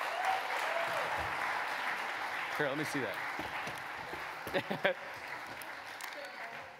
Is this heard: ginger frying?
no